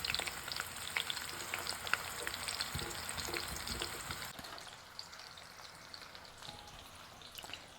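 Green beans sizzle and crackle as they fry in hot oil for a green bean casserole, a dense, steady bubbling that is louder for the first half and then settles to a softer fizz, with no talk.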